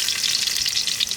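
Onions fry in a pan during village-style cooking of a hog plum curry, a loud, bright, continuous sizzle up close with no voices.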